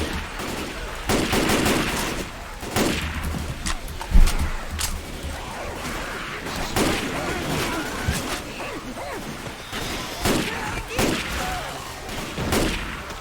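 Gunfire rattles in Left 4 Dead 2 during the Hard Rain campaign: repeated bursts and single shots at varying loudness, mixed with game noise while players talk over it.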